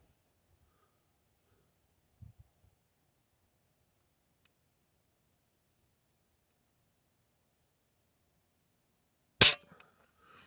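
A single sharp crack from a Weihrauch HW30s air rifle near the end, close and loud against near silence, preceded by a few faint handling clicks.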